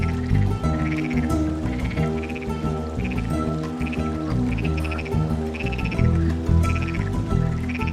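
Many frogs croak in a steady, dense chorus at a reservoir delta in Cyprus, with overlapping rhythmic calls near and far and faint insect chirps behind them.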